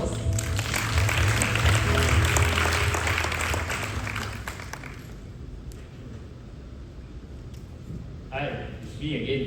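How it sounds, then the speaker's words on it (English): An audience at a Dell Technologies AI event claps to welcome an AMD Malaysia speaker; the applause swells over a low music bed, then fades into quieter room sound with a voice at the end. "A big round of applause"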